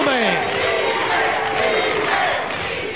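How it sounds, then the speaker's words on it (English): A World of Sport wrestling crowd roars and shouts without pause after Alan Kilby's first pinfall, a loud dense wall of cheering voices with rising chants. "the crowd still right behind him shouting easy"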